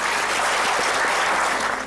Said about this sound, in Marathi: टाळ्या झाल्या पाहिजे त्यांच्यासाठी